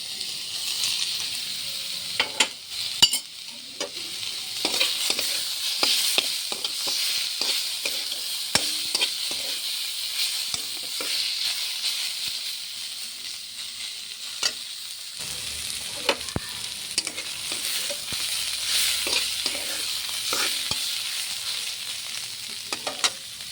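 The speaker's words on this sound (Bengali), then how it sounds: "এখন বেগুনটা দিয়ে দিলাম" Eggplant frying with spinach in a pan gives off a steady, close hiss and sizzle, broken by frequent spoon scrapes and clicks as it is stirred, with no voices.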